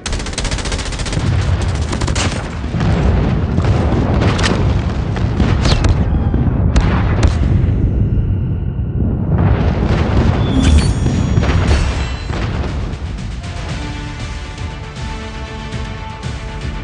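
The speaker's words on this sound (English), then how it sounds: "Friendly airstrike incoming." Airstrike explosions in the video game Call of Duty Mobile: loud, continuous rumbling booms and rapid gunfire bursts, briefly dropping off and then resuming with lighter fire.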